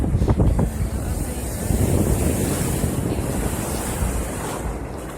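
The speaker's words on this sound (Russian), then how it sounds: "Волны не дают зайти в море." Black Sea waves crash and roll ashore in mid-spring under a cold, gusty wind that buffets the microphone, a loud continuous surf with heavier breaks near the start.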